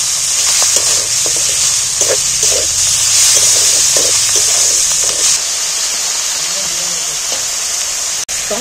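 Minced mutton sizzles and fries in a hot pan while a spoon stirs and scrapes through it, a constant bright hiss with intermittent scraping knocks and a sharp clack near the end.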